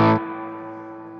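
Electric guitar through a Brunetti Singleman 16W combo amp in full power mode at full volume, overdriven: a loud distorted chord struck once, then ringing out steadily with a long sustained decay and room reverb tail.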